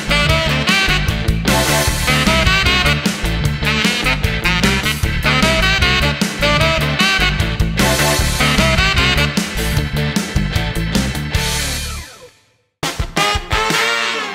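A saxophone plays the riff of a song over a loud, dense backing track with punchy, busy phrases, a brief drop-out near the end, then a short restart.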